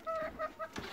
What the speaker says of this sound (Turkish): Bu da tavuklar mı bu?